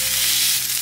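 Rice and egg fry in a pan on a home stove, giving a close, steady hiss and sizzle with a slight dip near the end and no talking.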